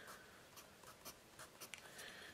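Derwent Onyx graphite pencil scratching across paper in a quiet room, a steady soft scraping broken by short louder strokes and taps, with no voices.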